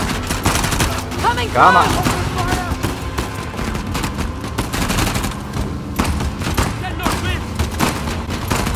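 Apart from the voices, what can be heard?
gunfire in Uncharted: The Lost Legacy video game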